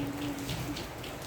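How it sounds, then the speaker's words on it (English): Heavy rain falls steadily outdoors, a soft continuous patter and hiss at low volume with no voices. "it's raining here heavily"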